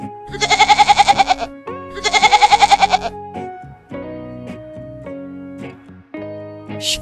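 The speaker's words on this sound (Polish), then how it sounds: "Koza." A goat bleats twice, each bleat a loud, rapidly quavering cry about a second long, then softer tonal music notes carry on alone without speech.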